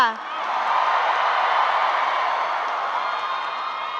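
An audience at a stage event applauds and cheers in one sustained, even wash of clapping and voices that swells after a brief start and holds steady, fairly loud and close.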